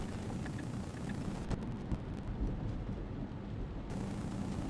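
Steady rain heard from inside a Tesla driving at night, a dense hiss layered over a deep road and wind rumble, with no talking.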